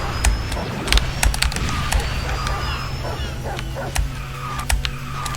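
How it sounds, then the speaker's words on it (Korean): A dog barks repeatedly in short yips and bow-wows at an irregular rhythm over a steady background hum during a kart racing game session, with faint talk mixed in. "개짖는 소리만 안 나면 좀 좋겠는데"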